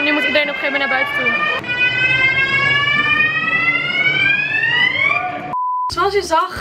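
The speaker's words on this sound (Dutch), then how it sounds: "Brandalarm af, dat hoor je nog steeds." A loud fire alarm at an amusement park drones on with sweeping tones under people talking, then cuts to a brief steady beep and more noise.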